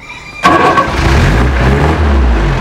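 A car engine cranks and catches with a sharp start, then settles into a smooth, loud, steady idle heard close up with no talk over it.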